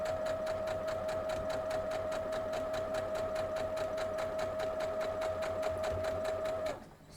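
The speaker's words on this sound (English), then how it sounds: "And we're going to sew it down too." A sewing machine stitches flying geese quilt blocks in a steady, fast mechanical whir with a constant hum, running alone and evenly for several seconds before stopping abruptly.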